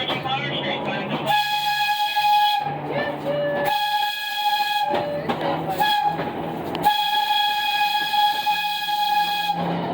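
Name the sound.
train whistle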